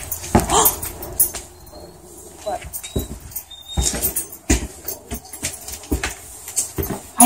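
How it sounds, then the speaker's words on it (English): Thin, high puppy whimpers and squeaks come in short bursts amid rustling and handling noises, with scattered clicks and bumps close by. "I hear puppies."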